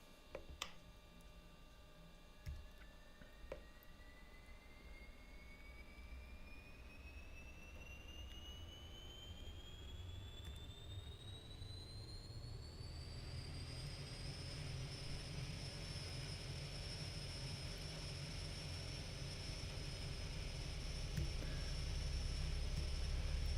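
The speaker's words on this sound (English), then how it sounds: "we'll be starting with our right engine" The right turboprop engine of a Carenado King Air spools up in X-Plane, a steady whine climbing in pitch over many seconds, then levelling into a constant high tone with a low rumble that grows louder toward the end.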